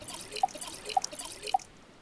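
Water dripping while watering plants in the survival video game Stranded Deep: three evenly spaced, bright, close drips over a faint watery background, no talking.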